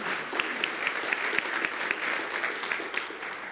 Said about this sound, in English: Yeah, we can clap for the prayer chaplains.